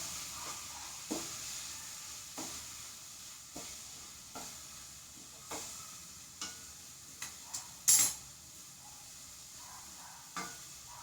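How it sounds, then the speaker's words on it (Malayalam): Grated coconut is stirred in a pan for a mango ada filling: sparse, sharp spatula taps and scrapes sound over a faint, soft sizzle, with one louder clatter near the middle. "നാളികേരം ചെറുകിയത് അങ്ങോട്ട് ഇട്ട് കൊടുത്തു ഒന്ന് അങ്ങോട്ട് ഇളക്കി കൊടുക്കാം"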